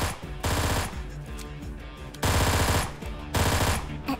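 Gunfire in a shooter video game comes as three loud, rapid bursts separated by short gaps, with no speech over it.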